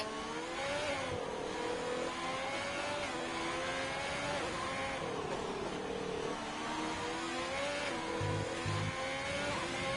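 An F3 race car in a sim racing game screams through a hot lap at the Vietnam circuit, its engine note rising and dropping through gear shifts, steady and close throughout with brief low thumps near the end.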